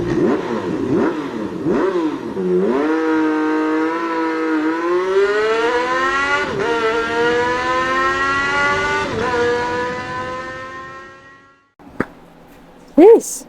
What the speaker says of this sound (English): Try to cut down in just deep enough to split the bushing without digging into this thing.